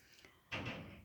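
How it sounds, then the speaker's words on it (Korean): A front gate in a residential neighbourhood slams shut with one sudden loud bang after near silence, and a dull rattling resonance hangs on afterward. "저 문도 항상 지금 대문 소리 쾅 닫는 소리 드셨죠?"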